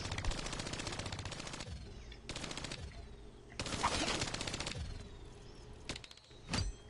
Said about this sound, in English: Getting headshots with a sentry gun.